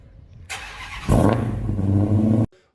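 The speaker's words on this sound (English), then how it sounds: "the GT will finally get remote start like you see in all of the Challenger startup videos" A 2022 Dodge Challenger GT starts by remote start: a brief starter whir, then the engine catches with a loud burst and settles into a steady, deep idle before cutting off, close by with no voices.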